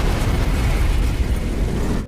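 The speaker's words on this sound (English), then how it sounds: "Eddie and Bella watch Creston's explosion in excitement." An ankle-rig explosion in a film scene lets out a loud, sustained blast that roars for about two seconds and then cuts off sharply, with no voices.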